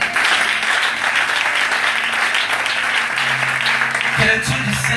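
Sustained audience applause fills a worship gathering, dense clapping from a large crowd that stays loud and even throughout, with a brief swell and some voices rising near the end.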